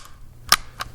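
A Springfield .22 rimfire rifle is dry-fired on a snap cap, making a sharp, close metallic snap followed by a second, softer click a moment later, with no talking.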